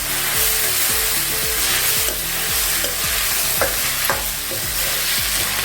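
Chopped tomatoes are sautéed for mint kurma, hissing loudly in a hot pan while a spoon stirs and scrapes in regular, repeated strokes. The sound is close and busy, with no speech.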